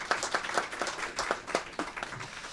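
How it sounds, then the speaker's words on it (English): An audience claps at a talk on human rights: a short burst of dense applause from a room of people, steady and moderately loud, with no voices over it. "So please give her a round of applause."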